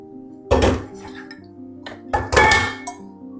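Spice mix for fasting-style black chickpea curry being stirred in a pot, with a few distinct metallic clinks and scrapes of a spoon against the vessel, two main bursts separated by quieter moments.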